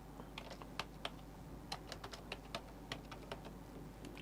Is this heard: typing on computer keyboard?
yes